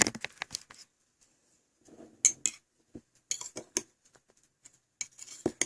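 Metal utensil scraping and clinking against a bowl while ingredients are mixed, in short irregular bursts separated by pauses, close and fairly quiet.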